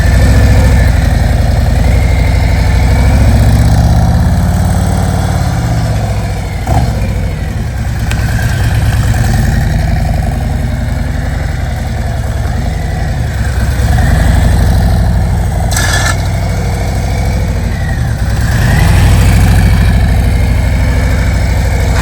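A heavy motorcycle's engine runs steadily at low speed, a loud close rumble that idles and rises slightly at times, with no talking.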